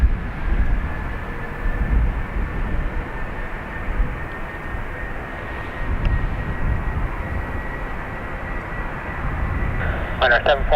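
SAS airliner at Dublin Airport, a steady distant jet engine roar through the whole stretch, with people talking over it.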